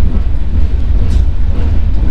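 The 13189 Sealdah–Balurghat Express rolls past Rampur Bazar station with a close, steady low rumble of carriage and track noise throughout the short stretch.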